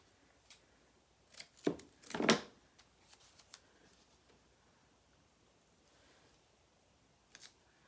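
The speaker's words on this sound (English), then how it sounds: "let's take a scissor and make a cut, straight cut here" Scissors make a straight cut, giving a short cluster of crisp snipping and rustling strokes near the start, then a few faint clicks in an otherwise quiet room.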